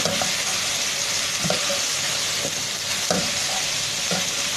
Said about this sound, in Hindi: अपनी वेजीज को फ्राई करना है अच्छे से, तो हम ऐड करेंगे सॉल्ट एंड ब्लैक पेपर, साथ ही ऐड कर लेंगे शुगर